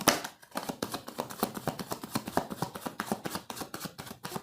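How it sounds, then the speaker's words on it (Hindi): Tarot cards being shuffled by hand, a rapid, close series of crisp riffling slaps and flutters in a steady rhythm with no talking. "एक और बार मैं शफल करना चाहूँगी"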